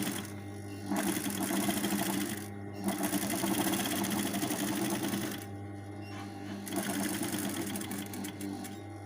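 A sewing machine stitches a table napkin in loud, rapid mechanical bursts, stopping briefly twice as the fabric is turned at the corners before running on again.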